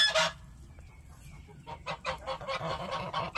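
Several geese honk repeatedly at close range outdoors, loud overlapping calls with no talking.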